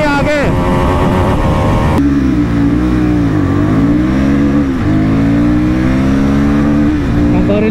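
Royal Enfield Guerrilla 450 motorcycle accelerating hard in a drag race, its loud rising engine note climbing through the gears with a shift partway through, heavy wind rush throughout, and a rider talking over it.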